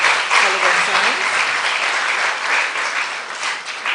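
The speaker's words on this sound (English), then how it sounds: "Please, a round of applause to our provost, College of Science." Audience applause at a women-in-STEM science camp event honoring a college provost, sustained dense clapping throughout, loud and even, with some cheering voices mixed in.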